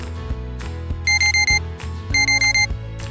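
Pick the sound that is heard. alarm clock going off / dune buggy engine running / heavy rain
alarm clock going off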